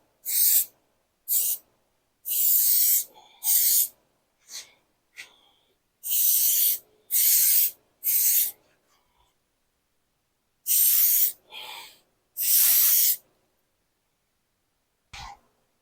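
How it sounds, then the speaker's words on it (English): Repeated short bursts of hissing from a spray gun spraying contact cement, about a dozen blasts of varying length separated by silent pauses, close and loud. "a gun for spraying contact cement"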